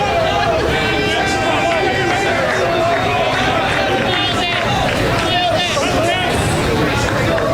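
Baseball stadium crowd at a college game between Tampa and LIU Post, a steady loud hubbub of chatter and murmuring across the stands with a ringing tone above it, continuous without a break.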